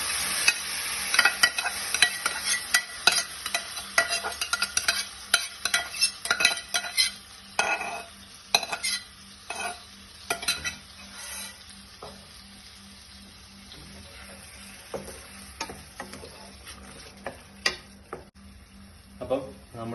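A semi-gravy veg bites curry is stirred in a pan, with repeated scraping and clinking of a spoon against metal over a light simmering sizzle. The stirring comes in bursts, busier early on and sparser later.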